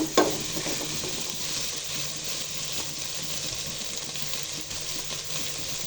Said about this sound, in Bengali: বাঁধাকপি, দেবো কাঁচামরিচ খালি, দিয়ে 2-3 মিনিট নাড়াচাড়া দিয়ে দিব।